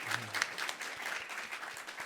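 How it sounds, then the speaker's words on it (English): A short burst of audience applause at a youth cooperation conference, a fairly even patter of many hands with a faint voice briefly in the background. "Please applause."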